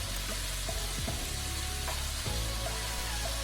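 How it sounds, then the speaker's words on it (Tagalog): Chicken breast sizzles in a pan with soy sauce as it is stirred, a steady close frying hiss with faint scraping and clinking from the utensil throughout. "Pwede mo itong haluin para ma-incorporate ang soy sauce na ating ilagay."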